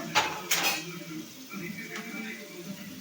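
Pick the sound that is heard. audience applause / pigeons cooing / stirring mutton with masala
stirring mutton with masala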